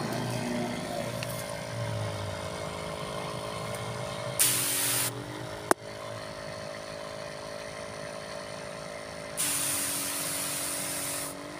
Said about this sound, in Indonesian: Setel di status embun yang sangat halus agar berkabut.